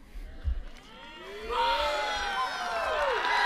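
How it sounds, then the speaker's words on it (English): Crowd at an outdoor high school graduation ceremony bursting into loud cheering, whoops and shouts, rising after a brief lull and continuing strongly to the end. "You can cheer, it's okay."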